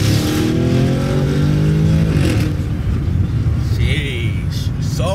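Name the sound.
sports car engine revving with exhaust burbles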